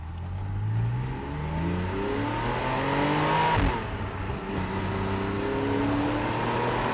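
A Porsche 911 997.2 Carrera S engine in sports mode revs hard and accelerates up through the gears, loud and close, with rising pitch sweeps and a brief shift in the middle.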